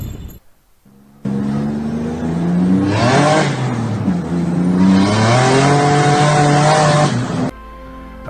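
A Holden VY V6 turbo Commodore revs hard through a tyre burnout, its engine note rising and falling loudly over roughly six seconds with tyre squeal mixed in, then cutting off abruptly.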